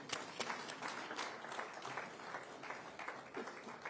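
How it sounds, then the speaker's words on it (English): A conference audience applauds as a speaker arrives, a dense, steady wash of many hands clapping that stays faint and even throughout with no pauses. "Please clap until he gets here."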